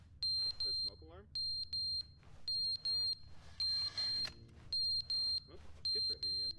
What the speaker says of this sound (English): The smoke alarm?